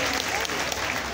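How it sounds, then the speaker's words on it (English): An audience at the Norland car award event in Lagos applauds for Norland, a steady dense wash of clapping that stays loud and even throughout. "Please put your hands together for Norland."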